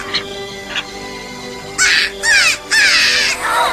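A small cartoon eagle cries out in a run of loud, harsh, rasping calls, close and repeated, after a couple of softer chirps and over a faint musical background.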